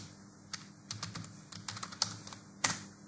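Brief run of computer keyboard typing as a command is entered, a handful of crisp keystrokes close up, ending with a firmer final key press.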